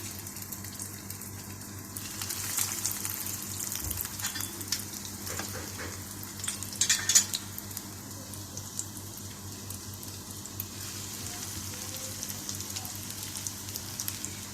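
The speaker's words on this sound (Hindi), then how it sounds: "ये हम पैटीज को ना फ्राई कर रहे हैं" Bread pizza patties fry in hot oil with a steady, soft sizzle and crackle, fairly quiet and continuous, with a few brief louder spatters partway through.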